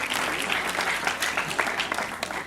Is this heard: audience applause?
yes